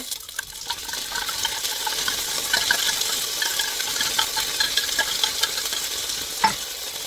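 Two portions of tuna hit a hot pan and cook, giving a steady close sizzle with light stirring and scraping throughout and a small clatter near the end.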